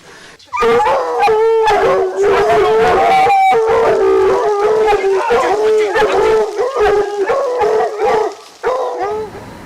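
A large pack of hunting hounds bays and howls loudly and continuously during a hunt, many overlapping voices yelping close by with barely a pause.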